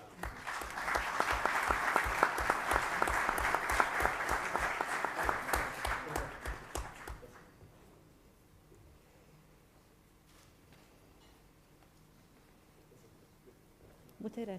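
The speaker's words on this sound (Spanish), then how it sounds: "Y nosotros le brindamos un aplauso." Audience at an academic coffee-break talk applauding for about seven seconds, brisk and fairly close, then fading out into quiet room tone with faint rustling.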